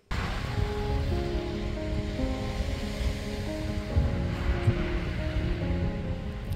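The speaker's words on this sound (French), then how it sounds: "le bruit des vagues, ce ressac" Ocean surf rolls in along the Portuguese coast, a continuous low roar of breaking waves with some wind buffeting the microphone, steady and close throughout with no voices.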